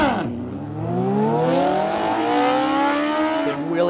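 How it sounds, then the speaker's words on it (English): A Suzuki Hayabusa sportbike pulls hard out of a corner on a track, its engine note climbing loud and close in a long rising howl, with a brief dip and another surge near the end. "Big wheelie out of the hole there for the Busa"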